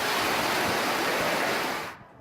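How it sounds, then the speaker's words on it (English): Floodwater from a typhoon storm surge pours down a staircase in a dense, roaring rush that holds steady and loud, then cuts off abruptly near the end. "the staircase behind me is now basically a waterfall"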